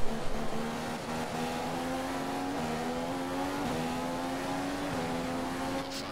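A Formula 1 car engine in the F1 2015 racing game at the Bahrain Grand Prix, a steady loud high-pitched whine that holds near one pitch with small shifts as gears change, and no talking over it.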